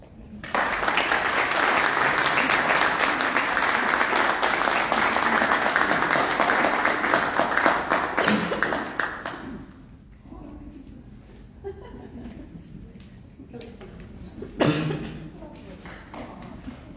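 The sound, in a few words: audience round of applause at book launch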